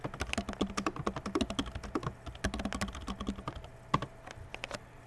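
Rapid clattering keystrokes on a computer keyboard, close and steady with a dense, irregular rhythm of clicks running throughout, a faint hum underneath.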